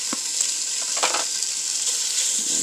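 150 grams of bacon frying in its own fat in a pot for frijoles charros, a steady close sizzle with a few crackles and pops, no voices.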